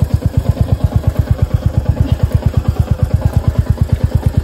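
A Honda Shine motorcycle engine runs off-road, heard as a fast, even thumping pulse, loud and close, holding a steady idle-like rhythm from start to finish with no speech.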